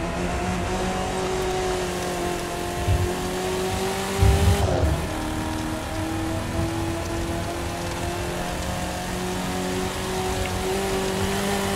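A car engine in The Crew 2 racing game drones steadily throughout, with a brief louder surge midway and a faint rain-like hiss underneath.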